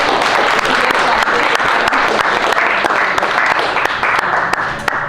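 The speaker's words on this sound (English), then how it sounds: "If you guys can just give yourself a round of applause for being here." A live audience at a Chicago entrepreneurship gathering claps steadily and loudly, a dense continuous wash of applause filling the whole stretch with no talk over it.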